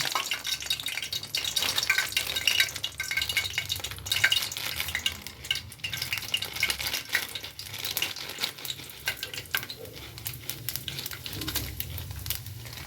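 Curry leaves and chicken curry seasoning frying in hot oil in a pan, a loud, steady crackling sizzle running throughout with fluctuating spatter, close up and with no talking.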